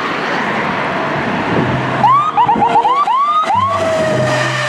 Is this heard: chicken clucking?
no